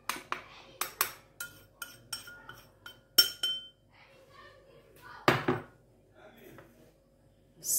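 Spoons of pastry cream powder go into a pot, giving a string of bright clinks and taps about twice a second, then a few scattered knocks and one louder scrape, all close and with no talk.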